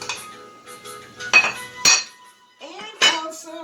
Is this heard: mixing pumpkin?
yes